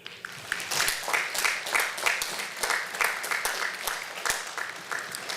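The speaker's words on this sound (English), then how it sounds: "let's give a round of applause to all the instructors here today" Applause rises from the audience at a joint commissioning ceremony for the instructors, starting abruptly after a brief pause and swelling into a steady round of many hands with distinct sharp claps, moderately loud.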